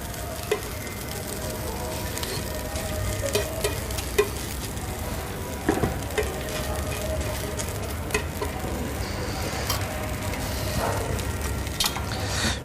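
Bologna slices given a light fry in a pan for an egg paratha, a steady close sizzle and crackle throughout with a few soft utensil clinks.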